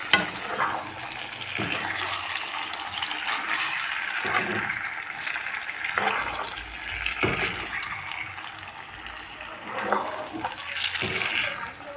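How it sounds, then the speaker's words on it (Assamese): Chicken is stirred and mixed in a pan. A loud, wet sizzle carries on throughout, broken by repeated scraping strokes of the spoon at close range. "এতিয়া মই ধুনীয়াকৈ সকলোখিনি মিহলি কৰি লৰাই দিছোঁ।"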